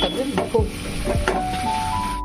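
Spice masala for a fish curry frying in oil over a low gas flame, a close, continuous sizzle punctuated by scraping stirs of a spatula against the pan.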